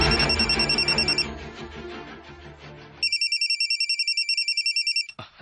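A cellphone rings with a bright, rapidly pulsing electronic trill in two bursts, close and loud, the first overlapping a busy musical background and the second alone before cutting off.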